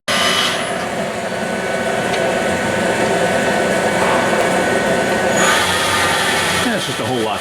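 A Sunnen SV-1015-S1 precision vertical honing machine running at half speed, a loud, dense mechanical drone with rhythmic grinding and clattering textures throughout, steady with no pauses.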